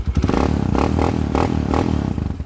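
A tuned Suzuki TMX125 Alpha motorcycle converted to 200cc, its loosened exhaust readjusted, runs close and loud with a rough rhythmic clatter and several short rev surges over a steady idle.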